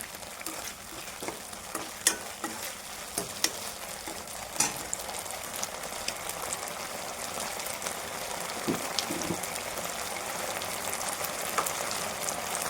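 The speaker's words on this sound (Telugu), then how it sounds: "కొంచెం ఫ్రై అవ్వనివ్వండి." Sauces frying and sizzling in a pan for veg manchurian, with steady dense crackling throughout, occasional sharper pops and clinks of stirring, at close range.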